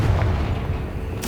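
The Confringo fire spell in Hogwarts Legacy bursts inside a tomb as a loud, deep, rumbling blast that fills the moment, with a brighter crackle rising at the very end.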